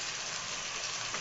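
Garlic ginger paste fries in a pan for a quick biryani, giving a brief, steady, close sizzle with no speech.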